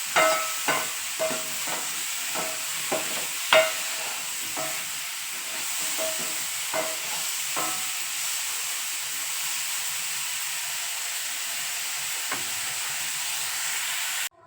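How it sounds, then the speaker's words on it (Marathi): Mushrooms sautéed with a little salt in a pan for a hotel-style mushroom masala, giving a steady soft sizzle with repeated scraping stir strokes through the first half, then continuous quieter frying. "हे व्यवस्थित असं मला परतून घ्यायचं अगदी थोडंसं मीठ घालून घेणार आहे"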